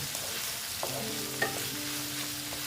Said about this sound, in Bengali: পেঁয়াজটা একটু ভালো মতন ভেজে নিচ্ছি